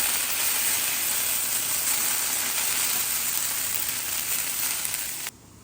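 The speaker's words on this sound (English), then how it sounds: "Look at me moving the potatoes with ease." Potatoes browning in oil in a non-stick pan give a steady, loud broadband sizzle that runs evenly for several seconds, then drops off abruptly near the end, with no speech.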